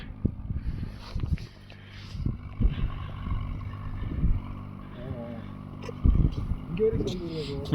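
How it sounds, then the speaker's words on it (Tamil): A low tractor engine drone rumbles steadily beneath people talking outdoors near Key Monastery in Spiti, with the motor noise swelling louder near the end as it approaches. "ப்ரோ அந்த டிராக்டர்காரர் இந்த வராரு பாருங்க."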